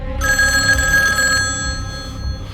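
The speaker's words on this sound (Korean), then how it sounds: "규평 역시 전화 벨소리에 놀라는 장면을 바로 연결시켰습니다." Telephone bell ringing in a dramatic film scene set in 1970s Korea, a loud continuous metallic ring that starts sharply after a brief pause and persists steadily, with low background rumble and no talking.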